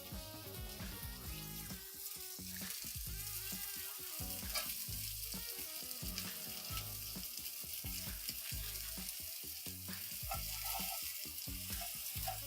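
Meatballs sear in a hot frying pan for a meatball stroganoff, a steady close crackling sizzle running throughout with occasional stirring noises and no talking.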